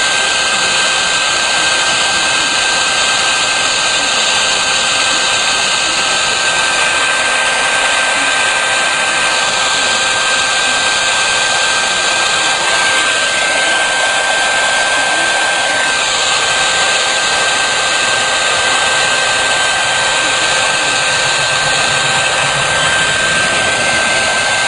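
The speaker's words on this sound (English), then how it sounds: "You gotta keep the heat moving, you don't want to burn it." A heat gun blows hot air in a loud, steady, unbroken roar with a constant whine, held close for the whole stretch with no pauses.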